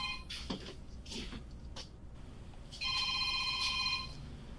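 A phone rings with a bright electronic trilling tone in a house during a deputies' property search, preceded by scattered knocks and rustling, then a sustained ring burst that holds for over a second.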